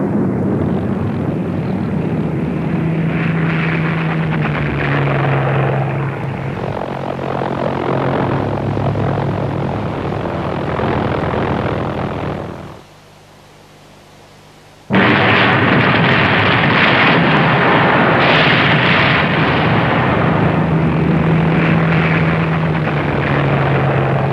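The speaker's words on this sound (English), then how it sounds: "the fighters tried to shoot down the missiles over thinly populated countryside" WWII fighter planes chase and fire on V-1 flying bombs over open countryside, loud droning engines mixed with bursts and explosions, then a brief drop to a low hum before the roaring engine noise returns at full strength.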